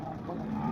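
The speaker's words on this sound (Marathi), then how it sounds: "एक नंबर आपल्या भागातली गाय आहे बघा" A cow moos at a cattle market in Modnimb, giving one sustained low bellow close by over a short stretch.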